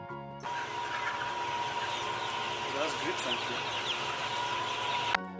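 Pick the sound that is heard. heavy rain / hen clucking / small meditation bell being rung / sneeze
hen clucking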